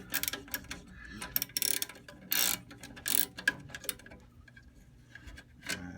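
A hand ratchet with a 1/4-inch socket backs a screw off a Bryant/Carrier 395B furnace control board, giving close, rapid bursts of clicking pawl strokes separated by short pauses.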